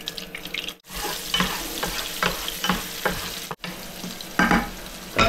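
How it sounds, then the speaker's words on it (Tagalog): Garlic and onion sauté in a pan on an electric stove, a close, steady sizzle broken by several stirring clinks and scrapes, with two brief drops to near silence. "Magigisi lang muna ako ng bawang at sibuyas."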